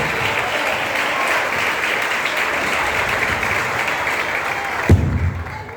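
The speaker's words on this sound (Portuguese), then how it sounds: "Pastor James com palmas que enaltece o nome do Senhor." Church congregation applauding in praise, a dense steady wash of clapping that fills the room, then cuts off with a low thump near the end.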